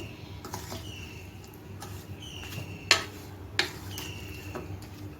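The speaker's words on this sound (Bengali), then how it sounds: "দিয়ে ভালো করে মিশিয়ে নিচ্ছি আমের সঙ্গে সব মশলাগুলো" Raw mango being stirred by hand with spices and mustard oil for pickle: soft scraping with two sharp spoon-on-bowl clinks near the middle, close and fairly quiet.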